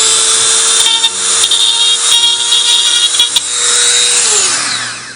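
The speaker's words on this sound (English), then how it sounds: "so then I'll go back and grind just a little bit more off." A power tool grinds down a small piece for a recycled water bottle light craft, running in a steady loud whine with brief dips as it touches the work, then winding down near the end.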